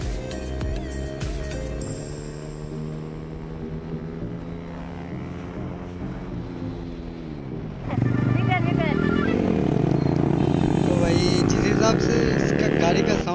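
Motorcycle engine riding through market traffic, a close, droning roar with shifting pitch that rises and grows louder partway through, heard under continuous talk.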